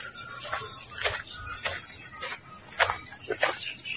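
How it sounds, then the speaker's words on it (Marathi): Crickets chirp in short repeated bursts beside Railway Lake in Igatpuri, a quiet natural spot, set over a steady high insect drone and low ambient rumble, moderately distant and without talk. "तुम्हाला रातकिड्यांचा आवाज येत असेल बघा"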